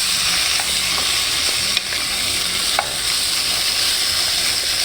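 Pork humba fries in a pan with a steady, loud sizzle and continuous hiss, with a few faint stirring clinks on top and no voices.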